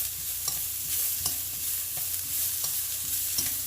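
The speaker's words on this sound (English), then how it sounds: "So now the onion, I'm gonna be sauteing this also with my garlic." Onion and garlic sautéing in a pan with little oil while cooking blood stew (dinuguan): a steady close sizzle with regular stirring scrapes and clacks about every second, no voices.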